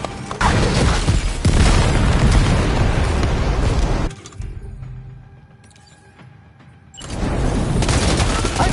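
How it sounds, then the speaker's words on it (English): Heavy video-game gunfire roars loud and close in dense continuous bursts, drops away for a few seconds into a quieter lull, then erupts again at full intensity. "Opening fire."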